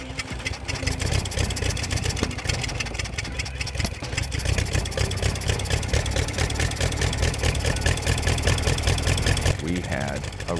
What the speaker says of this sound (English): we had a running motor